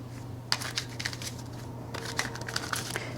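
A Dark Mansion Tarot card deck is shuffled close by, giving soft papery riffles and sharp flicking snaps in quick bursts over a faint low hum. No voice is heard.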